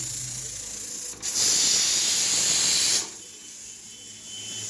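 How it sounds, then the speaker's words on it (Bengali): Salted turmeric water heating in a pot on the stove gives a steady hiss, briefly swelling louder in the middle before settling back to a softer, continuous rush, with no talk. "দেখছি যে জলটা গরম হয়ে এসছে"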